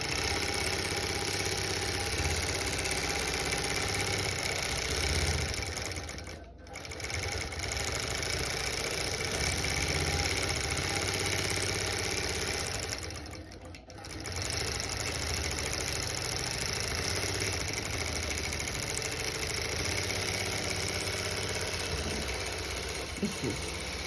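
A longarm quilting machine stitches across a quilt loaded on its frame, a steady mechanical hum and rapid motor drone running almost continuously, briefly dipping twice before resuming, with no voices.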